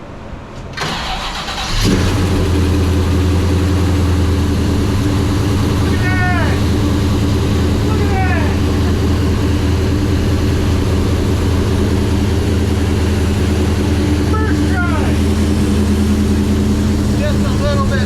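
A Chevelle SS with a 454 engine and Holley Sniper EFI cranks and fires, then settles into a loud, steady idle, while people talk briefly over the running engine.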